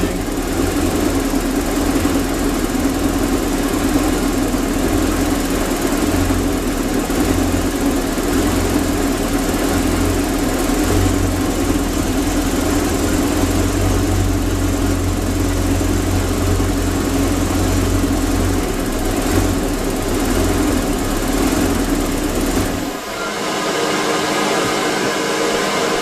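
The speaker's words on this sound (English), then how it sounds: "Seemed like it was idling pretty good." A Mercruiser boat engine idles steadily and loud, a continuous low rumble with a smooth, even rhythm and no surging, running alone until it cuts to a quieter background near the end.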